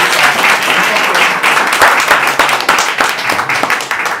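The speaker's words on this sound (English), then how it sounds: "to give an applause for these four guys" Audience applause rings out for four event organizers at a tech conference, a dense, steady wash of many hands clapping that fills the whole stretch at close, loud level with no talk over it.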